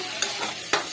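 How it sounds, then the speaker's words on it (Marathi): Pav bhaji vegetables with masala are stirred in a pan, giving a close sizzle broken by three sharp spoon scrapes and clinks within a single second. "मिक्स करून घ्यायचं."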